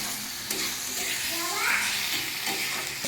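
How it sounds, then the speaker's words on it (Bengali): Potatoes for aloo dum are stirred and sautéed in a pan, giving a steady soft sizzle with scraping stir strokes throughout, close by and without voices. "এখন এটাকে একটু সময় ভালোভাবে নেড়ে কষিয়ে নেব।"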